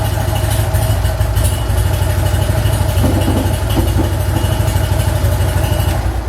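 A BMW R50/2 motorcycle engine idles steadily after starting, a loud, close, continuous low-pitched throb with a slightly uneven running beat and no talk over it.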